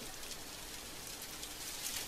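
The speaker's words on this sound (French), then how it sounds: "Bon là, vous voyez, il pleut." Steady rain falling in a visual novel game, a continuous even hiss of dense drops with no breaks, heard alone without voices.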